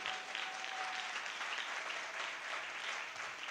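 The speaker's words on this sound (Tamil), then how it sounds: "கைத்தட்டுங்க பார்க்கலாம்." A church congregation at a Sunday service clapping their hands together, a continuous, even roar of applause from many people in the hall, slightly distant and steady throughout.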